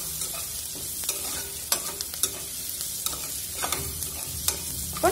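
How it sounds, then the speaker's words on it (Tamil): Curry leaves sautéing and being stirred in a pan, with a steady close sizzle broken by repeated scraping stirs and light clatter, with no voices. "கொஞ்சம் கருவேப்பிலை இதையும் சேர்த்து ஒரு 2 நிமிஷம் கலரிக்கலாம்"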